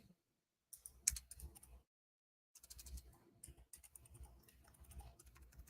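Fingers typing on a computer keyboard nearby: quick bursts of soft key clicks, a short flurry, a pause, then a longer run of uneven tapping, fairly quiet and alone.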